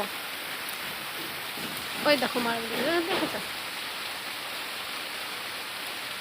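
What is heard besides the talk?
rain falling on a rooftop garden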